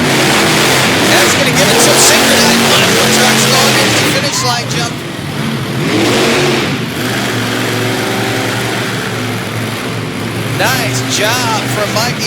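Monster trucks rev loudly side by side toward the finish line jump in Topsfield, Massachusetts, engines roaring and sweeping up and down in pitch for several seconds beneath commentary.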